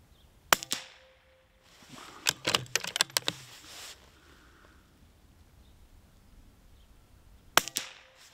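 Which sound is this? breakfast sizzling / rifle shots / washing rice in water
rifle shots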